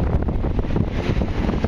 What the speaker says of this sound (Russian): погода отличная, разгуливается, ветер только